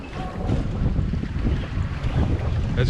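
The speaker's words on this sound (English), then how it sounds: "as you can see, it's pretty windy and pretty choppy," Sea-Doo RXP-X turbo personal watercraft riding over choppy water on a windy day: steady roaring wind buffeting the microphone over a low rumble of hull slap and rushing spray, loud and continuous with no talk.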